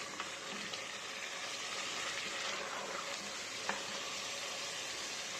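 Mutton pieces being sautéed in a pan for a curry while the released juices cook down give a steady, soft sizzle and crackle, with a few faint stirring clicks and no talking.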